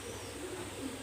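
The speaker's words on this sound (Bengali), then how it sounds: "কবুতর জোড়াটা দেখা যাচ্ছে যে 7-8 পরে চলে গেছে" A pair of pigeons coos softly within a continuous background hiss, with a low, brief murmur and no talking.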